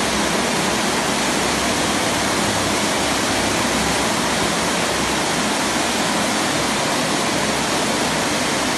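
Floodwater rushes after heavy rain in Hatay as a loud, unbroken roar of pouring water, steady throughout with no voices.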